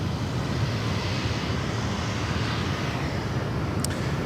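A Finnair airliner at Sydney Airport gives off a steady, broad engine roar from a distance, a constant rushing drone without breaks, and no voices over it.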